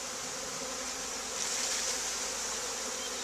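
A dense, steady hum of honey bees buzzing close by while a package of bees is installed into a hive, swelling slightly louder midway and continuing without voices.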